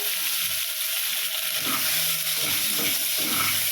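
Brinjal goes into vegetables already sautéing in a pan, making a continuous close frying hiss with irregular scraping and stirring scuffs throughout.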